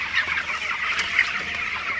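Broiler chickens in a farm shed cluck and murmur softly at night, a faint continuous chorus of fowl with no single bird standing out.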